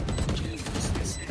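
Rapid automatic gunfire sprayed in the tactical shooter Valorant, a dense burst of rattling shots lasting over a second with clicky mechanical detail and some chatter underneath.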